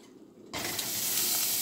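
Butter hits a hot pan and breaks into a loud, steady sizzle after a brief quiet moment, close and continuous, part of cooking beans and franks.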